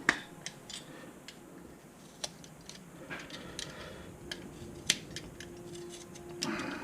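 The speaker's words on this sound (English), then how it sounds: "Cut a little bit of excess for the screwdriver to sit, so I can cantilever the capsule out." Plastic being snipped and trimmed from an Audi key fob shell to make room for a screwdriver, giving sparse sharp clicks and cuts over a steady low background hum, close up with no speech.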